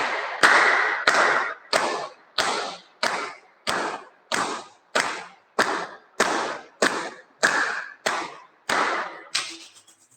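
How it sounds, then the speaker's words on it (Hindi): Hands clap at a steady, even rhythm during a yoga exercise, about fifteen crisp, close claps with short pauses between them, heard alone without speech. "चलिए दाएं बाएं के बाद फिर से ताली बजाते हैं पुनः 15 बार"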